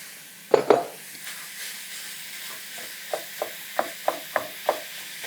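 About 1.5 pounds of ground beef browning in a skillet: a soft, continuous sizzle close by, punctuated by a pair of loud clanks early on and then a regular series of sharp spatula taps.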